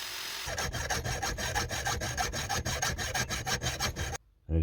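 A hand saw cuts through a piece of metal for a bracket, with rapid, even rasping strokes close up that stop abruptly near the end.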